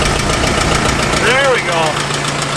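An old, long-abandoned tractor with a rusty carburetor runs rough and uneven at a steady idle, chugging loudly up close while someone speaks briefly over it.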